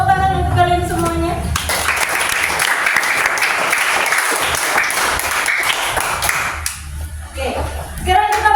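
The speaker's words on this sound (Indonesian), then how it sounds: "Tepuk tangan untuk kalian semuanya." A classroom group claps for students after their group presentations. Dense, loud applause lasts about five seconds, with a voice speaking just before and after it.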